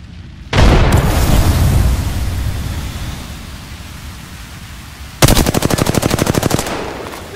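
Heavy gunfire in Apex Legends: a loud sustained blast of shooting with a boomy roar, then after a lull a rapid, evenly spaced burst of automatic fire, close and dominant with no voices.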